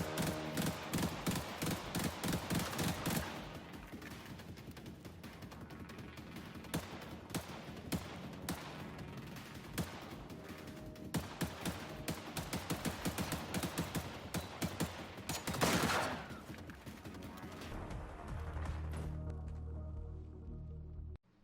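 Rapid assault rifle fire in the Generation Zero shooter, a dense, steady stream of close, punchy shots over a constant background layer, with a heavier burst or impact near the middle and a low rumble at the end.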